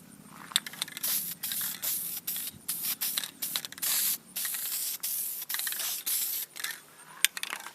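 Aerosol dye sprays in short repeated bursts of hiss as a light tack coat goes onto BMW or Mercedes interior trim, close and loud with brief pauses between passes.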